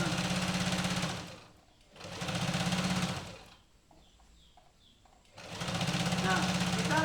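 A sewing machine stitches an altered old garment in bursts, its rapid mechanical whirr starting and stopping, with a quieter pause between runs.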